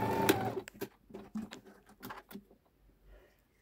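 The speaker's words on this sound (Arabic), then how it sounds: "كيفاش راح ندير خياطه نورمال كيما راكي تشاهدي نخيط لكم" A sewing machine stitching the shoulder seam of a prayer garment: a brief loud burst, then a run of quick rattling stitch clicks and taps that fade toward silence, close by, with no talking.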